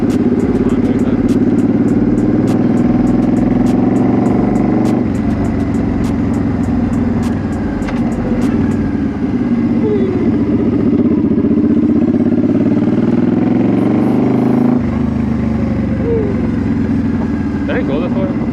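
A motorcycle engine drones steadily at close range while the bike rides along a road, with continuous wind rush and road noise throughout and a rider talking over it.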